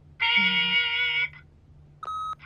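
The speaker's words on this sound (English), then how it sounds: "Beep!" Electronic answering machine beep in The Wolf Among Us, a clear sustained tone lasting about a second, followed by a shorter second tone, loud and close with nothing else around it.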